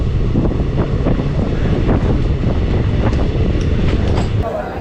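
Intercity Express train rolling on rails between Kolkata and Bardhaman, a steady loud rumble with rhythmic clatter and wind buffeting throughout, no voices.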